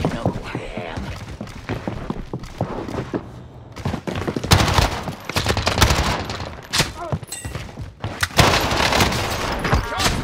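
Video game gunfire in Rebirth comes as dense, continuous bursts of shots with thuds and booms. Game voices shout over the loud, chaotic firing.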